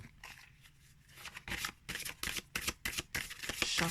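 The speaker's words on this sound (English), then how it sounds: "Shuffling overhand, there's no problem either." Oracle cards shuffled overhand riffle and slap in a quick run of soft papery bursts, close by, growing steadier toward the end.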